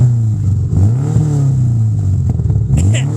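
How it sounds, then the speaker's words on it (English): A Subaru car engine, blowing heavy blue smoke during a compression test, idles low, then revs up and settles twice, a steady mechanical drone with rising and falling pitch, close by. "Give it a few revs."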